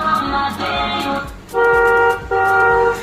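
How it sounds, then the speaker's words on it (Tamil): A toy ride-on car's horn, made to sound like a real car horn, gives two long, loud steady honks close by, preceded by a shorter tooting tone. "இது அனுக்குன்னா நார்மல் காரோட ஹார்ன் சவுண்ட் மாதிரி."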